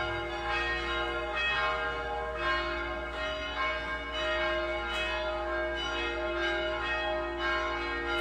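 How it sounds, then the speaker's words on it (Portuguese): A church bell rings on and off, loud and clear, from outside a house, with layered metallic tones that carry through the whole stretch and no talking over them. "Vocês estão ouvindo o sino aí?"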